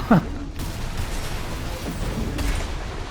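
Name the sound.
shotgun firing in a video game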